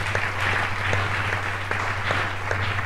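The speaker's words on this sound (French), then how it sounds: "Est-ce que nous pouvons acclamer le Seigneur?" A church congregation claps steadily and loudly during a Sunday worship service, a sustained wash of applause with scattered sharper claps under a low steady hum.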